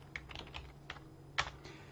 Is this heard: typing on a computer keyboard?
yes